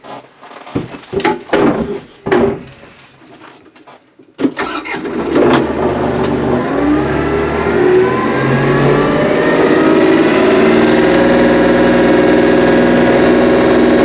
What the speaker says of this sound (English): Here I have the tractor on, so this is how you will shift it.